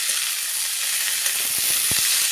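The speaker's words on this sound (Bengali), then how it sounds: "এবার শাক কুচিগুলো আমি লাল শাক কুচি দিলাম, সেগুলো দিয়ে দিলাম। দিয়ে ভালো করে তেলের সঙ্গে মিশিয়ে নিচ্ছি।" Chopped red amaranth leaves fry in oil, giving a loud, dense, continuous sizzle and hiss with faint scraping from stirring underneath.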